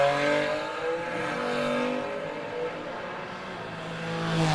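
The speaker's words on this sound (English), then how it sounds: "That little 6-cylinder zinging over there." A six-cylinder race car engine zings at a drag strip, its high revving whine rising and falling steadily in the distance over a continuous outdoor roar.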